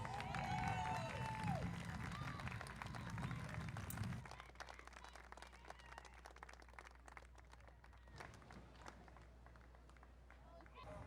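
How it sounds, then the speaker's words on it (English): Crowd clapping along the route of an Armed Forces Day parade in Torrance, scattered and fairly faint, mixed with a voice at the start and then thinning to sparse claps over a low steady hum. "Round of applause."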